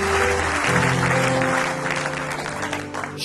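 A church congregation applauds during a worship service, a dense continuous patter of clapping that stays loud throughout over sustained musical tones.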